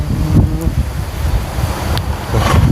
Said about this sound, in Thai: ลมแท้นี่